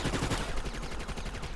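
Rapid automatic gunfire in the video game Resident Evil: Operation Raccoon City multiplayer, a dense, continuous rattle of loud shots with no pauses.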